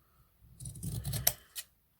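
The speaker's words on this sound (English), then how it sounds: "I'm going to cut them to" Scissors snip through ribbon tails on a hair bow, a close run of crisp cutting and rustling ending in one sharp clip and a short final snip.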